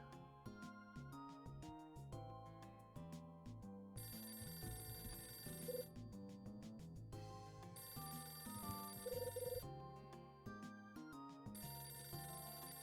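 Telephone ringing in the video game Hotel Dusk: Room 215, repeated bursts of bright electronic ringing pulsing in regular bouts over soft background music, quiet and with no talk.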